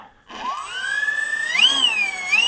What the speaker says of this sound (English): that's pretty impressive on the ground here with 4 brushless outrunners. Winding away.